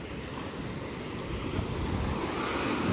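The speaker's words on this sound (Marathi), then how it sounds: "आणि आपला मिडबावचा समुद्रकिनारा" Ocean waves roll in at Malvan beach in Konkan with a constant rushing roar, buffeted by wind noise on the microphone.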